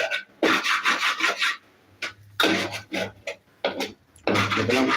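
Upma being stirred in a pan after coconut milk is poured in, with rough rasping and scraping strokes in uneven bursts, close and loud, with a few short pauses between them.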